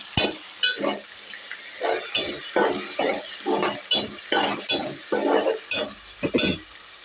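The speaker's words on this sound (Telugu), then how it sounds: "ఇప్పుడు మనము టమాటాలు, ఉల్లిగడ్డ, లవంగా, చెక్క, ధనియాలు పేస్ట్ వేద్దాము." A ground paste of tomato, onion, clove, cinnamon and coriander seed frying with masala in a pan, stirred in a steady rhythm of scraping, sizzling bursts, close and moderately loud.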